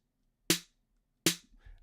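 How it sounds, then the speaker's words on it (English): Two sharp 808 drum machine snare hits, played alone about three quarters of a second apart, each a bright noisy crack with a low body tone that decays quickly, with faint low rumble after the second. "and then we've got the 808 snare"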